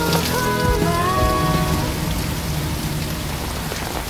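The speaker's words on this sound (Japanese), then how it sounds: "天上下着暴雨" Heavy rain pours down steadily during a storm, a loud, continuous wash of raindrops that does not let up, with faint tonal sounds at the start.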